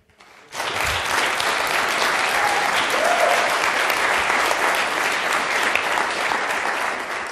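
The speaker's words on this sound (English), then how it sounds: "You're going to stop clapping" An audience bursts into loud, sustained applause after a short quiet start, dense clapping filling the room at an even level throughout.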